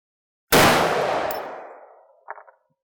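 A single loud .44 Remington Magnum gunshot fired into a ballistic gel block, a sharp blast with a long decaying roar, followed by a brief faint clatter.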